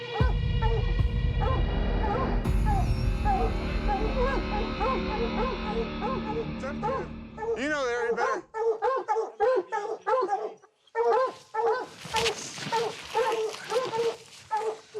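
Hunting dogs barking excitedly at a mountain lion treed in Montana backcountry: rapid, repeated close barks and yips in overlapping bursts, with someone speaking briefly over them.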